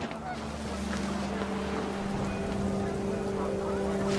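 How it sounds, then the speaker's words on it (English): Steady, dense heavy rain hiss in the video game What Remains of Edith Finch, with a low engine-like drone and a sustained tone running underneath throughout. "The rain came down in buckets then"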